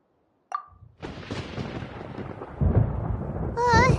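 A thunderstorm in the video game Genshin Impact sets off a sharp plucked note, then a rolling rumble of thunder that swells louder and ends under a wavering electronic tone.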